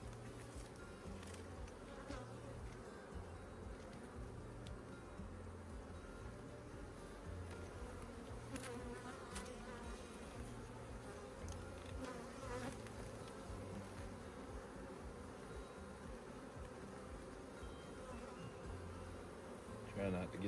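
Honeybees buzz steadily at an opened hive during an inspection after formic acid mite treatment, a dense continuous drone filling the whole stretch with no talk over it.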